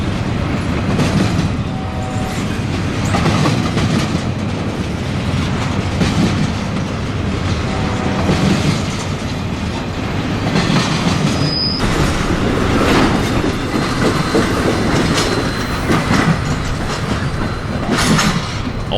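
A train rolls past the station in Decatur, Alabama, a loud continuous rumble with rhythmic clickety-clack of wheels over rail joints and occasional wheel squeal, close by throughout.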